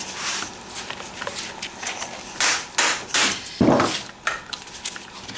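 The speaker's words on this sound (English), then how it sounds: "we want to give it a good, one good whack" A light hammer whacks an engine while it sits on a workbench, giving several sharp metallic knocks between quieter handling noises, close and fairly loud.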